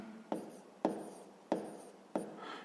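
Someone writes a percentage answer for a sixth-grade maths exercise, four quiet, distinct scratchy strokes of writing at a steady pace, heard alone without speech.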